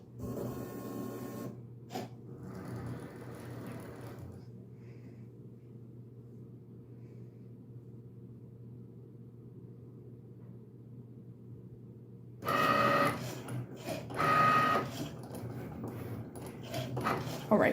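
Cricut cutting machine cutting pieces on a 12 by 12 mat, a steady mechanical hum with whirring carriage bursts at the start and again near the end, heard alone without talk.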